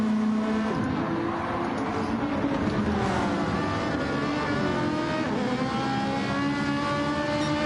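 Touring race car engines in a BTCC racing video game at Laguna Seca roar continuously, loud and close, their pitch climbing and dropping through gear changes as the cars push through a left-hand corner.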